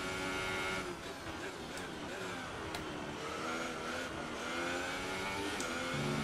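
An F1 race car engine in the F1 2018 video game screams at high revs, its pitch climbing and dropping through gear shifts in a steady, loud run of whining harmonics.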